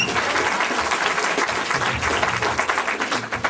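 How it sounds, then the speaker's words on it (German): An audience at a comedy show in Darmstadt claps warmly and steadily, a full, close wash of many hands that keeps an even level throughout with no speech on top. "trotzdem macht bitte Applaus für die beiden"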